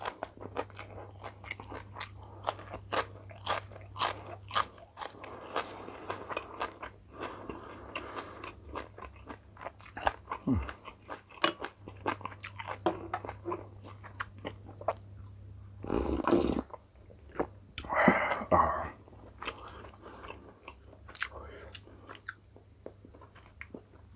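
Crunchy biting and chewing of spicy Thai papaya salad with fermented fish, served with boiled chicken, close to the mic as repeated bites and mouth noises in a quiet home setting with no talk.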